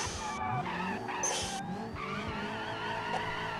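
Car drifting in BeamNG during a career-mode drift challenge, with tires skidding and squealing continuously over engine noise, steady and close throughout.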